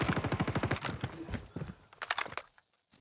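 Rapid bursts of automatic gunfire from the Call of Duty Mobile shooter game, fast rattling volleys of close shots, a short pause, then another burst and a single trailing shot.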